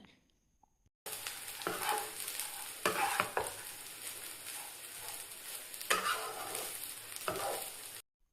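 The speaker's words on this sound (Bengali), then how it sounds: "পরিমাণ মতন রাইসটা দেওয়ার পরে হালকা হালকাভাবে মিশিয়ে নিতে হবে" Cooked rice tossed and stirred into a hot frying pan for restaurant-style mixed fried rice, a steady sizzle with scraping spatula strokes at close range, starting after a second of silence.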